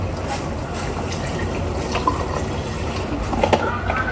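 Hot water pours steadily into a vessel, a continuous splashing stream with a few brighter splashes near the end.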